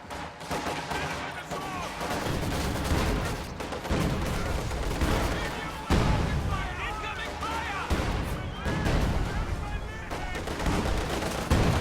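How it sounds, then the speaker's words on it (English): Battlefield gunfire in a World War II video game: mortar rounds, a Maxim machine gun and T-34 tank cannon going off in a dense, continuous barrage, loud and layered throughout with talk over it. "Mortar fire, Maxim fire, T-34 fire."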